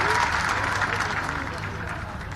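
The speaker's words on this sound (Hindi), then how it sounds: "तालियां बजा के उनका स्वागत कीजिए।" A large crowd applauds to welcome a guest at an outdoor stadium event in Narsinghpur, where a Subhash Chandra Bose statue is unveiled. The clapping is dense and continuous, echoing, and fades slightly toward the end.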